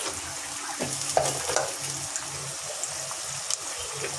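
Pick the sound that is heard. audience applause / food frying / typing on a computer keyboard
food frying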